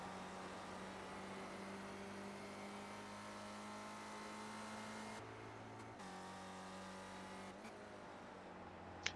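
A steady race car engine drone from iRacing, a Spec Ford racer at Summit Point, its pitch dropping abruptly at a couple of gear shifts.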